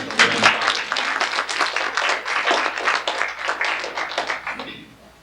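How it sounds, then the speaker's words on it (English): An audience applauds a Holocaust survivor's newborn great-grandchild, a close, lively burst of many hands clapping that stays fairly even before fading out near the end. "the 5th is now just 4 weeks old, which I think deserves a round of applause."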